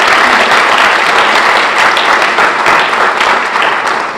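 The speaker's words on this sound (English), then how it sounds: "A round of applause for the Provost." An audience at a graduate student orientation applauds the provost, a loud, steady crowd of clapping hands sustained throughout with no talk.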